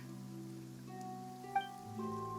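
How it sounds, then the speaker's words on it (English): Steady rain patters down in Genshin Impact's Fontaine region, a soft even wash of drops that plays under sustained melodic game music with no one speaking. "Is that why it's raining?"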